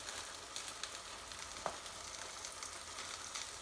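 Greens frying gently in a pan on low heat, wilting with a steady soft sizzle that stays even throughout, with a brief faint clink partway through.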